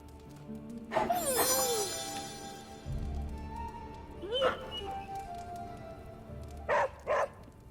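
A dog in the Marvel's Midnight Suns video game gives a couple of short yips and whines, then two quick barks near the end, over a low game ambience and music.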